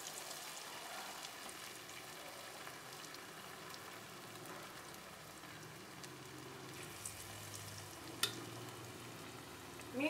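Lentil fritter (thavala vadai) batter frying in hot oil on medium heat, a steady soft crackling sizzle that runs throughout, fairly quiet, with one brief sharp click near the end and no talk.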